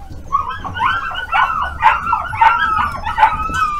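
A litter of English cocker spaniel puppies yipping, whining and whimpering in a rapid, overlapping chorus of high-pitched cries, close and fairly loud over a low background rumble.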